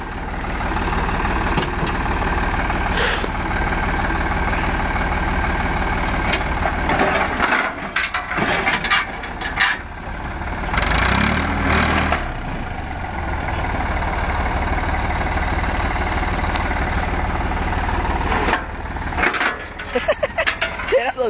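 Garden tractor engine idling in a steady mid-pitched rumble throughout, with clattering knocks and cracking bursts partway through and people talking in Danish over it.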